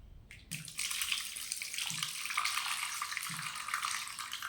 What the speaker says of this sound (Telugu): దీంట్లో కొంచెం వాటర్ పోసుకొని